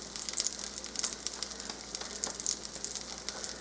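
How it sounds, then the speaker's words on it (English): Lentil burgers frying in a fry pan, giving a steady close hiss of sizzling oil with small irregular pops and crackles throughout, no voices. "Put it right in that fry pan."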